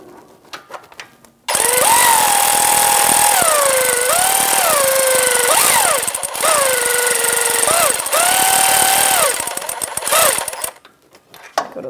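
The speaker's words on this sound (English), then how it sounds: "I'm going to take my air ratchet and I'm just going to snug them all up so I can torque them to spec" Air ratchet snugging starter bolts on a Ford E-350 Super Duty 5.4L V8, loud buzzing rattles in repeated bursts with a pitch that rises and falls, separated by short pauses, starting abruptly and ending with quieter clicks.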